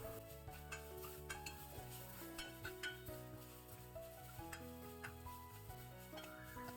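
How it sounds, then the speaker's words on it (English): Coconut and spices roast in a pan over a low flame with shallots and tamarind, giving a steady soft sizzle with frequent light stirring scrapes and occasional faint clinks of a utensil against the pan. "Keep roasting the coconut and spices on a low flame."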